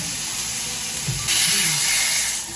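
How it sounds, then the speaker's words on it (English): Meat sears in a hot pan with a steady hiss and sizzle that swells louder partway through, close and continuous with no talking. "So I'm going to sear it on all sides."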